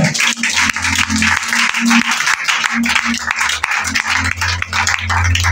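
A church congregation at a Sunday service applauding in acclaim of the Lord, steady sustained clapping with a low voice or organ-like tone running under it, loud and close.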